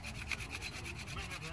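Wooden friction fire drill spun straight up and down on a board, a steady dry rubbing scrape with fast regular back-and-forth pulses, close and fairly quiet, alone without talk.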